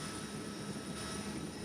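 Aircraft engine noise drones steadily and faintly, consistent with a helicopter filming the start of an ocean sailing race leg from Cardiff, a continuous distant rumble with no voices.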